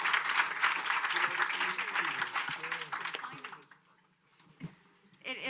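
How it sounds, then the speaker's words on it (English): Audience applause at a UN General Assembly Food Day event, a dense wash of clapping that fills the first three seconds and then fades out, with a few stray claps and a voice near the end. "Please give them a warm round of applause."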